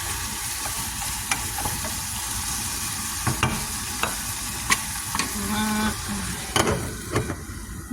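Tibs frying in a pan, a steady sizzle and hiss that runs throughout, with occasional clinks and stirring knocks close by.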